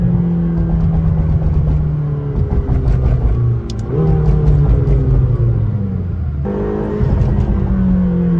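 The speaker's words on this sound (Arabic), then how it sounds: "تسمع صوت التوربو من الدوس يسليك." A McLaren GT accelerates with a steady, loud engine roar and turbo, rising through revs with brief dips between gear changes, close and continuous with no talk.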